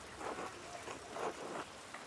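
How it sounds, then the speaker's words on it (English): Rain falls in the game Pentiment on a stormy morning, a soft, faint patter with a few gentle swells. "Andreas, stay out of the rain"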